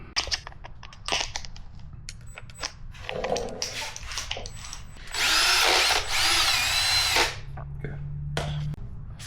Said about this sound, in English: We got a little drill attachment.